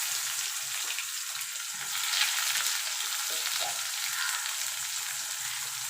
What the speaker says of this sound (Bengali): ফোড়নে দিয়ে দেবো কালো জিরে, পেঁয়াজটা দিয়ে দেবো।